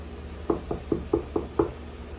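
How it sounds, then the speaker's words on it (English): Six evenly spaced knocks on a hard surface, sharp and close, over a quiet background hum. "I just knocked."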